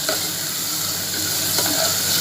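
Eggplant bharta being sautéed and stirred in a pan, a steady close sizzle of frying with soft stirring scrapes running throughout, no voices.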